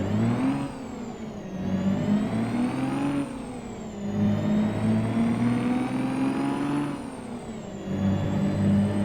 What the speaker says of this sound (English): We'll try the 6V, that 500 horsepower 6V from that other mod, and see if the engine profile, the sound profile is better